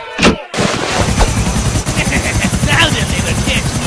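Rapid, loud gunfire rattles in the Grand Theft Auto video game, with repeated shots over a thumping, helicopter-like rotor drone and game voices.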